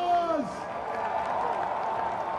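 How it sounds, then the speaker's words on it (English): A crowd applauds a line-up of ten strongman athletes being introduced at the 2019 Arnold Strongman Classic in Columbus, Ohio, with a steady, moderately loud wash of clapping and cheering in a large arena. "Let's give them a round of applause."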